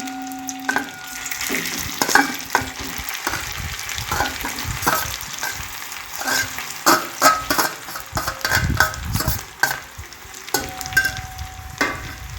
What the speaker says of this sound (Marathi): त्याच्यामध्ये आपण किसून घेतलेला बटाटा टाकूया